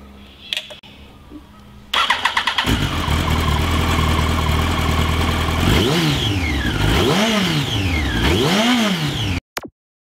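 A Yamaha R1 1000cc sport motorcycle starts up after a quiet moment, settles into a loud close-up idle, then gets blipped through three rising-and-falling revs before cutting off abruptly.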